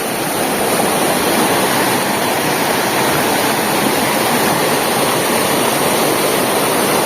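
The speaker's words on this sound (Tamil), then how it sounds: "இது ரெண்டாவது வாய்க்கா மடை பாருங்கள் எவ்வளோ தூரத்துக்கு தண்ணி போகுதுன்னு" Water rushes through a canal sluice gate from an overflowing tank at Puliyankulam, a loud, steady broadband roar of churning flow that stays constant from start to finish with no other sounds.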